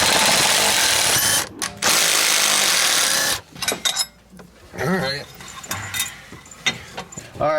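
A power tool zips bolts off the clutch cover of a Polaris Pro R, with a long loud whirring burst, short bursts and ratcheting after it, and people talking between the runs.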